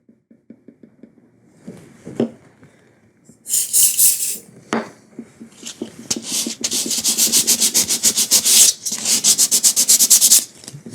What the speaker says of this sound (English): or you can also come in and just sand it, just like we did before